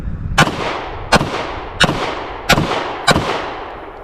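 A BCA Grizzly 101 pistol fires 124 grain full metal jacket rounds in five sharp, evenly spaced shots over about four seconds, each a loud crack with a short decaying echo.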